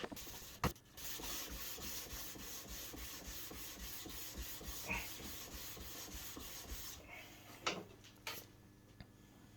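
A wooden guitar fretboard is hand-sanded up through the grits to 600, with soft, steady back-and-forth rubbing strokes, quiet and close, plus a few light knocks.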